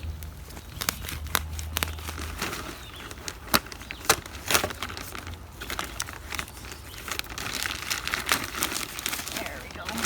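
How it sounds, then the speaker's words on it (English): Pro Mix compressed potting mix bag being cut open and handled, giving close, irregular crinkling and crumpling plastic rustles with sharp snips and taps throughout, with faint talk in the background. "Might need to cut this bag."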